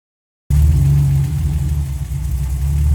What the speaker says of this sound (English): Right, let's get this car started and check for any leaks.